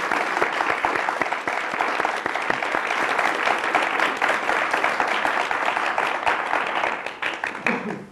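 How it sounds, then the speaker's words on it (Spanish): Sustained audience applause at the close of an interview on leadership with a Grupo Santander figure, a dense steady wash of many hands clapping from a sizable crowd for several seconds, with no speech over it. "Démosle un gran aplauso a Mauricio Gassón."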